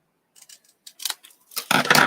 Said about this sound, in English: And then we can come in and just trim that up.